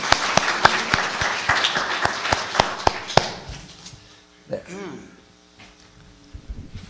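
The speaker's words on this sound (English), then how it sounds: "Let's give her a round of applause." A church congregation claps for a young altar server during a Sunday Mass, a loud burst of sharp, close applause that thins and fades away by midway, leaving quiet room sound with a brief voice.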